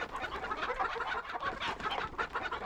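Chickens cluck busily in the Breath of Fire IV chicken-herding minigame, a dense run of quick, overlapping clucks and squawks that stays near and steady throughout with no voices.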